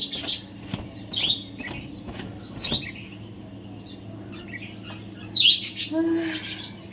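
Repeated Asian koel calls ring out at intervals over a steady low hum in Kolkata, with a louder burst of calling near the end.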